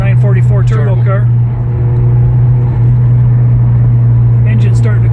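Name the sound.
1986 Porsche 944 Turbo engine during test drive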